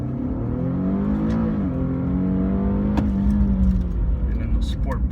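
A 2014 Infiniti Q50 Sport AWD in sport manual mode pulls hard, its engine note rising steadily through the revs with a brief dip at a shift, heard from inside the cabin with faint interior clicks.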